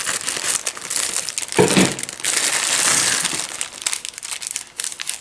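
Plastic Easter candy packaging crinkles and crackles loudly up close as it is worked open with scissors, a busy continuous rustling with a sharper burst partway through.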